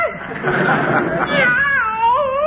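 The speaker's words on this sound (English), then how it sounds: "Louis Costello, stop choking that cat." A cat meows and yowls in a comedy radio sound effect set in a Christmas-time home scene, the wavering cry rising and sliding in long stretches, loud and close, with no talk over it.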